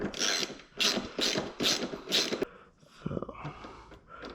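A wrench ratchets on a bolt during a Yoshimura Alpha T exhaust install on a 2020 Kawasaki ZX6R, giving five quick, close bursts of clicking, then a pause and softer metallic handling.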